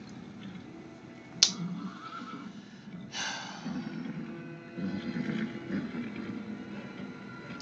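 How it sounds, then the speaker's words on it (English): Horse neighing in the film Hellboy: The Crooked Man, a sharp crack followed by a loud, close whinny, then further strained horse cries and rustling as the scene continues. "Don't hurt the horse."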